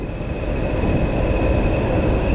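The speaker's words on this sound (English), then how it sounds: "I can see a DMU Class 108. If any luck, we should be passing it." A Class 108 diesel multiple unit passes on a heritage line between Kidderminster and Bridgnorth, heard as a loud, steady rumbling roar with a faint high whine running through it, close and continuous with no voices.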